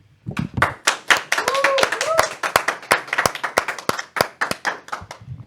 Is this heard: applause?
yes